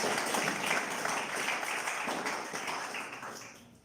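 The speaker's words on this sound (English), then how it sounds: "give a big round of applause for all of our friends" Steady applause from a crowd, dense and continuous, tapering off slightly toward the end.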